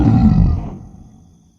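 Cougar roaring in an audio drama, one loud close roar that fades away over about a second, heard alone.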